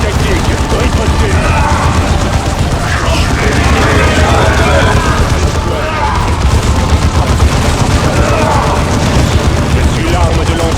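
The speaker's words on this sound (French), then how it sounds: "On subit les tirs." Dense, continuous battlefield gunfire and booming blasts from Dawn of War 2, loud throughout with overlapping shots and explosions, while voices speak over the fighting.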